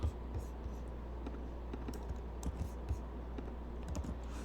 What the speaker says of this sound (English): I like to do some typing when I write my test.